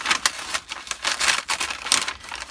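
Flower packaging paper crinkles and rustles steadily in bursts as it is opened and handled at close range for a craft folio, with no speech over it.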